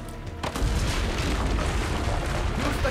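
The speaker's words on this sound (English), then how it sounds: "Use the cannons above the ramparts." Heavy cannon fire in an Assassin's Creed game trailer, a loud booming blast followed by a dense rumbling wash of explosions and debris that continues without pause.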